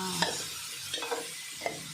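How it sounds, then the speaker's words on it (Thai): Pork stir-frying in a hot pan makes a steady sizzle, with a few sharp scrapes and clinks of the spatula breaking through. "ผัดหมูให้หอมค่ะ"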